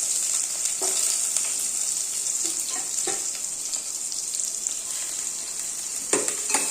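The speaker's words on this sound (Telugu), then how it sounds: "బాగా ఫ్రై చేసుకోవాలి." Cumin, onions and chillies fry in a hot pan with a steady bright sizzle, punctuated by occasional scrapes and stirs, close and continuous with no talking.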